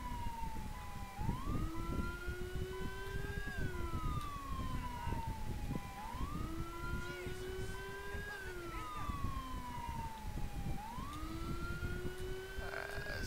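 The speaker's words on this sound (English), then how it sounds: "Alright, let's go to my ambulance." Ambulance siren in GTA V, a wailing tone that rises and falls in repeated sweeps over a steady engine and road rumble, heard continuously at moderate volume.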